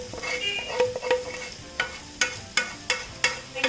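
Gravy poured into a pan of sizzling tandoori masala chicken, steady frying hiss punctuated by about ten sharp scraping stirs and clinks of a spoon against the pan, close and clear with no talking.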